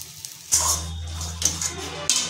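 Water is poured into a pan of greens mixed with spice paste for a vegetarian dish, making a few short splashy gushes and clinks close by, separated by brief pauses.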